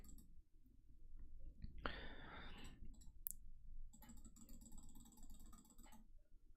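A computer mouse clicking during a Magic Online game: soft, close clicks scattered irregularly over quiet background hiss, with a brief rustling burst in between and no speech.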